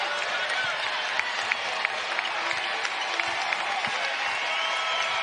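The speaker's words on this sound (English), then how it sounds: "The crowd here at the FedEx Forum loving the effort here on Super Bowl Sunday." A college basketball crowd at the FedEx Forum in Memphis, during a Memphis vs Tulane game, keeps up steady applause and cheering, with a commentator talking over the noise.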